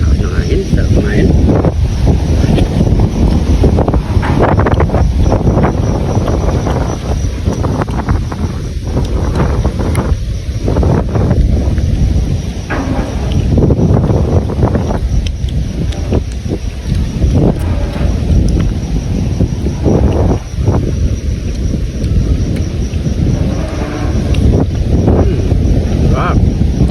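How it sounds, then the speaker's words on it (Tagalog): Wind buffets a microphone out on a boat at sea, a loud, constant rushing roar with gusty fluctuations that runs the whole way through. "Sarap ng hangin."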